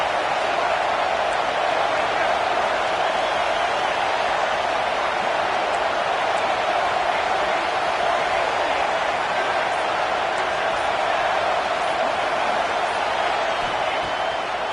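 A football stadium crowd roars in support of the defense at a Washington versus Michigan game, a steady dense wall of cheering and noise throughout.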